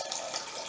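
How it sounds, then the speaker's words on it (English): Tap water runs steadily into a cooking pan, a brief continuous hissing splash at moderate volume. "Just getting some water in the pan."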